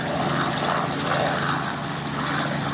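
A tour helicopter's engine runs on the ground before a flight over Oahu, giving a steady, loud, droning whine with a continuous low rumble and no voices.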